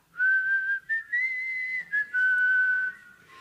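A room of lecture audience members whistle the Going Home theme from Dvořák together, a sustained, steady melody of several long phrases with brief pauses between them, fairly loud and free of talk.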